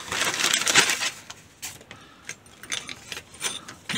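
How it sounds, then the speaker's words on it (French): A plastic pouch holding a pack of American Tackle MicroWave Finesse rod guide rings is torn and opened up close, giving a burst of crinkly rustling followed by scattered shorter crackles and handling noises. "Je vais ouvrir la pochette."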